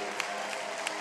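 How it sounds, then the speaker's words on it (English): Spectators at a Rugby World Cup 2019 repechage match between Canada and Kenya in a French stadium applaud with a broad, steady wash of clapping, heard from a distance and without talk. "Canada getting all the applause and the sounds of the brass band as well here in the Stade de l'Orte"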